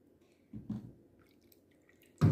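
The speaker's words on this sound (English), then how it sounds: "I'm going to wash out my blender with some good old Red Label wine" Red Label wine splashes and sloshes inside a blender jar being rinsed out after blending fruit for a Jamaican Christmas fruit cake, two short wet bursts close by with quiet pauses between.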